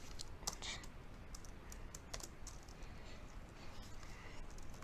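Code being typed on a computer keyboard: a quiet run of light, irregular key clicks over a faint steady background hiss.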